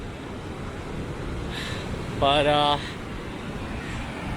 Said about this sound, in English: the water is just flowing. right onto the rock below